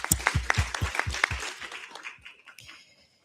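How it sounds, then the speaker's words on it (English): Audience at a UN youth engagement event claps for the organizers: a few sharp, rhythmic claps at first that blend into brief applause, then fade away within about three seconds. "I'd just really like to give a round of applause to the organizers"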